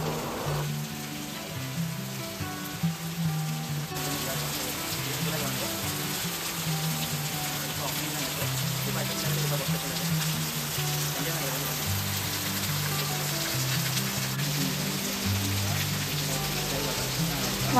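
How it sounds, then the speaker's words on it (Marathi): Sudden heavy evening rain falls in Paravur, Kollam, Kerala, a dense steady wash of drops that continues without a break beneath background music. "वातावरण खूप छान झालं आहे, जोरात पाऊस सुरू झाला आहे."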